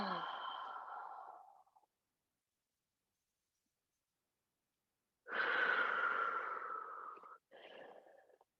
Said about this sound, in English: Ooh, catch your breath. So I can catch my breath.